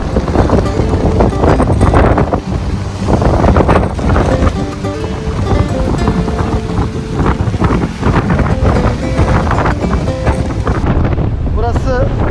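Strong wind buffets the microphone while rough, cold sea waves crash continuously against the Güzelcehisar lava columns near Amasra on a stormy day, and a voice speaks now and then under the loud roar.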